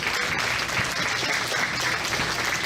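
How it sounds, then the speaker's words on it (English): Steady crowd applause at a Guernsey County Fair livestock show, honoring beef and dairy showmanship exhibitors, a dense uninterrupted clapping close and fairly loud for a few seconds. "Let's give these exhibitors a round of applause."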